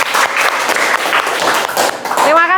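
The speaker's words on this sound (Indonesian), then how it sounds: "Mari kita beri tepuk tangan untuk diri kita sendiri." Classroom applause from a group of schoolchildren, a dense burst of clapping filling the room at close range, with a teacher's voice rising over it near the end.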